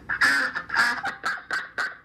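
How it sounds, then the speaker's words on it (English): Crazed ducks quack in a rapid burst of about seven loud, nasal calls, close and alone without any talking. "the sound of those crazed ducks in the background"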